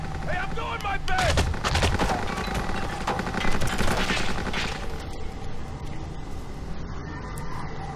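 Dense gunfire from the video game Kane and Lynch 2: Dog Days, rapid shots and bursts layered over a busy, loud soundscape that thins out toward the end.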